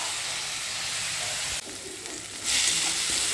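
Onion frying in oil in a pan until reddish brown, a steady broadband sizzle with stirring that drops briefly then swells louder, close and continuous with no talking.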